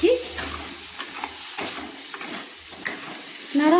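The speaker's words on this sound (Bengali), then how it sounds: "দিয়ে আবারও আমি একটু ভালো করে নেড়ে নিচ্ছি।" Eggs, eggplant and masala with salt are stirred in a hot pan for egg curry: close, continuous frying sizzle with repeated scraping strokes of a spoon against the pan, and a brief tonal sound at the end.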